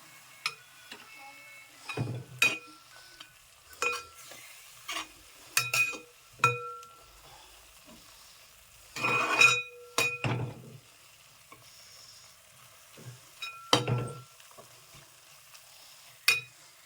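Food frying in boiling oil in a home kitchen, with short bursts of sizzling and stirring clatter from a spoon against the pan, recurring every second or two with quiet pauses between.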